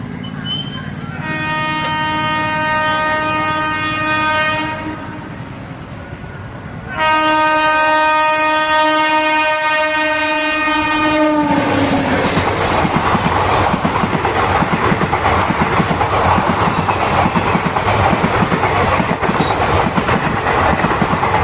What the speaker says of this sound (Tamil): ஒரு ட்ரெயின் கிராசிங் பார்த்துருப்பீங்க. செம ஸ்பீடுங்க.